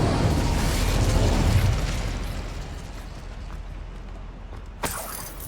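Incendio fire spell cast in Hogwarts Legacy, a roaring burst of flame that swells loud and rumbling, fades into a crackling hiss, and is followed by a short, sharp snap near the end.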